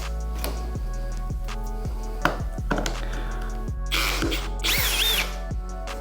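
A power drill with a magnetic bit holder backs out a screw, its steady whir running throughout, broken by quick ticking clicks and a brief squealing rise near the end.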